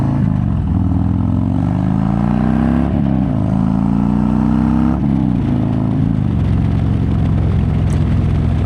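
Harley Davidson motorcycle exhaust on an evening ride, a loud, continuous low rumble with engine pitch rising and falling through several shifts and throttle changes, close and steady throughout.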